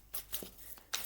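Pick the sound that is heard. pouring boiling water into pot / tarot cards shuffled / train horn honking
tarot cards shuffled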